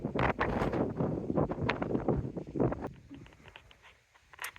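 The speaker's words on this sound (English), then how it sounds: "Now that the wind has died down just a wee bit for just a second" Gusty wind buffets the microphone outdoors at a garden site where drip irrigation is being installed, a loud rumbling roar that dominates the first three seconds, then eases to a quieter lull with brief gusts returning.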